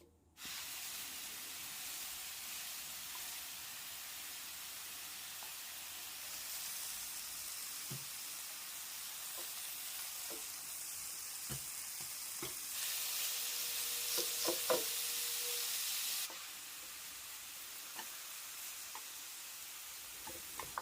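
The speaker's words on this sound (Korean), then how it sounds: "약불에다 넣고 살짝만 구워주시면 됩니다." Deodeok root roasting in a pan over low heat gives a steady soft sizzle with a few sharp pops and crackles, getting louder partway through and then settling back down, with no voices.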